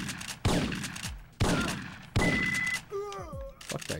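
Gunfire in the video game Syphon Filter: three sharp, loud shots about a second apart, each ringing out with a decaying tail, followed by a brief burst of chiming and whooshing game effects.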